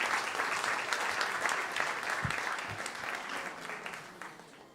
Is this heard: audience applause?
yes